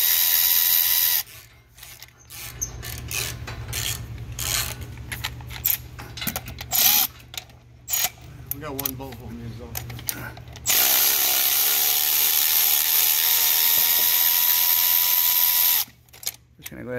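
Power tool whirring in bursts while removing the shifter bracket bolts on a Ford Transit T-250 during transmission removal, with long sustained runs and someone talking between them.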